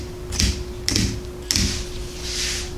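Pinking shears snip through fabric while cutting out a pants pattern, three distinct crisp crunching cuts spaced about half a second apart, close and clear with no talking.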